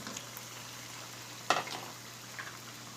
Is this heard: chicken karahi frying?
yes